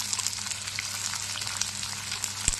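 Paneer frying in hot oil for chilli paneer gives off a steady, soft sizzle with faint crackles and one small clink near the end, and no talking.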